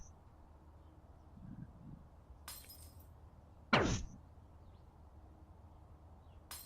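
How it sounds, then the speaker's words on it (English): A glass crystal shatters in the distance in the virtual reality game Anyland, one sharp, faint crash standing out over quiet background hiss, with a couple of softer brief noises around it. "it shoots out a glass crystal that shatters in the distance"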